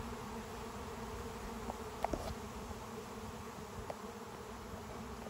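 A honeybee swarm moving into a five-frame nuc box left from a winter deadout, a steady outdoor buzzing drone with a few brief louder passes of bees close by.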